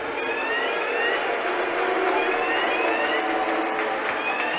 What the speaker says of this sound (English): the heat on the ice has set off the fire alarm here